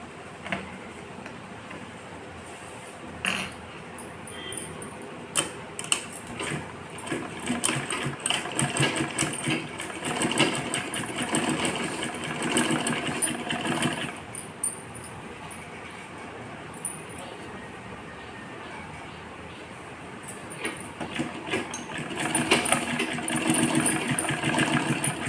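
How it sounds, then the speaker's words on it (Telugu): A sewing machine stitches the folded hem of a long skirt for a teenage girl, its motor whirring in steady, fairly loud runs that pause and restart several times. "ఇలా స్టిచ్ చేసుకోవాలి."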